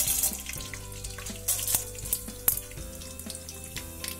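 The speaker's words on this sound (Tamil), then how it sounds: "ஒரு பேனில் ஆயில் சூடானதும் கடுகு சேர்த்துக்கோங்க. கூடவே கடலை பருப்பு உளுத்த பருப்பு போட்டு தாளிச்சுக்கோங்க." Mustard seeds, chana dal and urad dal sizzle in hot oil in a pan, a steady crackling fry with sharp pops and spoon taps throughout.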